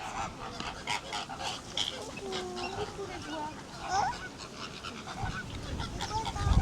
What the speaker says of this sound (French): Devant, c'est des oies.